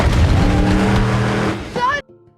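A monster truck plows through zombies in a film scene, its engine roaring loudly and continuously for about two seconds with a rising whine near the end before cutting off abruptly into quiet.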